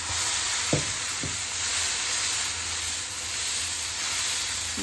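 Thin masala dosa batter sizzles steadily on a hot oiled pan as it is spread, a continuous hiss with a couple of soft scraping taps near the start, no voices.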